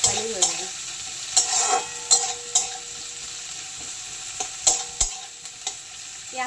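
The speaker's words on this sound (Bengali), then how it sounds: "অয়েল গরম হয়ে গেছে, এর মধ্যে একটু পেঁয়াজ কুচি আর লঙ্কা কুচি দিয়ে দেবো" Chopped onion and green chili sizzle in hot oil in a pan while a spatula stirs them, making a steady frying hiss broken by repeated sharp scraping strokes.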